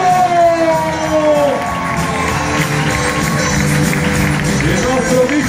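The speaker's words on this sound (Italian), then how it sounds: "Voglio l'urlo e l'applauso per il nostro coach Matteo Mazzocchio." A crowd at a sports team presentation in Cuneo cheers and applauds for the coach, a loud, sustained roar of voices and clapping with shouts rising over it, filling the hall throughout.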